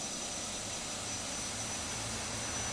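ATR72-600 turboprop engines spooling up during start, a loud steady broadband roar with a faint high whine, close and continuous with no talking.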